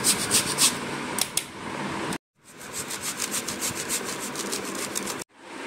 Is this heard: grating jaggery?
yes